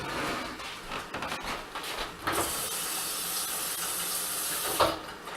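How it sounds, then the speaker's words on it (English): Water runs steadily from a sink tap as a paintball hopper part is rinsed off, a close, continuous splashing hiss that shifts as the flow hits the part, with a couple of brief clunks. "I'm just gonna go to my sink and wash this off really quick"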